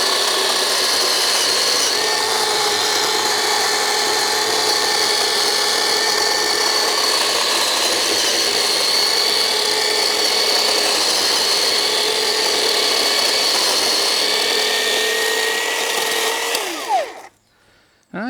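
A Black & Decker cordless electric chainsaw cuts steadily through wood, a loud continuous buzzing whine with rasping chain noise, running for about seventeen seconds before the motor winds down and stops.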